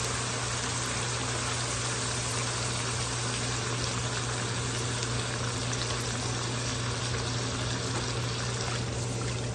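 A cup of water poured into a pot while cooking creamy four-cheese Rice-A-Roni, a steady, loud rushing hiss that runs unbroken for the whole stretch with no talking.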